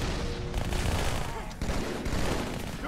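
Dense gunfire in the video game Halo 2, rapid overlapping shots and bursts forming a continuous loud crackle with booms, while people talk underneath.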